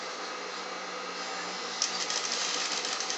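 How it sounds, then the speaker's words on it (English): A sewing machine stitching down a welt pocket on a maxi coat, a steady rapid whirring hum running continuously at close range, with a slight shift in tone partway through. "all I'm going to do is I'm going to stitch it down"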